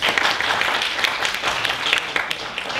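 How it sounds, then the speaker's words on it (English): An audience applauds a panel at the close of a lively discussion, with dense, steady clapping that fills the whole stretch at an even level. "Let's give a round of applause to the panel"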